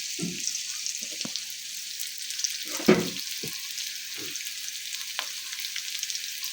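Onions fry in a pan with a soft, steady sizzle, broken by several low thuds and scrapes of stirring, one louder knock near the middle, all fairly close and quiet.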